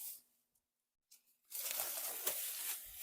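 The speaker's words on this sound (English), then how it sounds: "I'm just going to have to unwrap it." Plastic wrapping is torn and pulled off a car part during restoration of a 1976 Monte Carlo, a few short crinkles followed by a sustained rustling, tearing stretch at close range.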